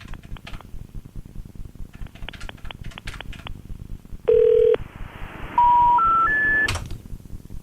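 A telephone number is dialed by hand, a brief burst of tones followed by three separate higher beeps, each held briefly, over a steady rattling background with no talk.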